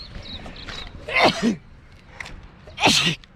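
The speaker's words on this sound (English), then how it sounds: "I'm gonna sneeze some more" Two sharp sneezes, with a quieter sniffly breath between them and faint breathy sounds before the first.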